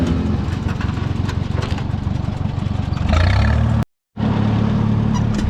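An old tractor with a low-speed rear end runs while plowing garden plots. Its engine gives a loud, close, rumbling chug that swells briefly, then drops out for a moment before it resumes.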